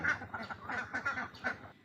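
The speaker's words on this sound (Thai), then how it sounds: "เป็ดบาร์บารี่ก็มี่สิบกว่าตัว" Barbary ducks and other meat duck breeds about four months old quack repeatedly at close range in a busy, overlapping run of calls with no talking.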